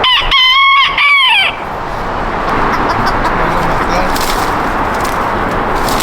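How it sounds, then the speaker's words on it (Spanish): A rooster crows loudly and close by in one shrill, rising call, followed by a steady background hum and faint voices in an outdoor garage setting. "Gallito."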